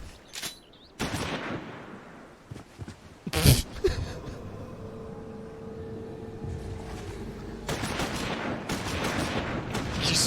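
Gunfire in Final Fantasy XIV Online comes in bursts of rapid blasts, loud at the start and again near the end, with a quieter stretch holding a low hum between them.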